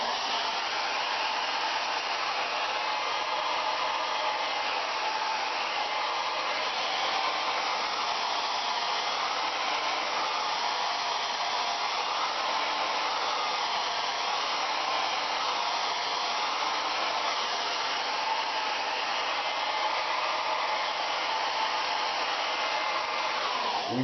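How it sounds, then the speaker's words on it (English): A hair dryer blows steadily on acrylic paint on a canvas frame, a constant loud rushing whoosh with no pauses and no voices. "Right, so now it's a matter of just drying that off."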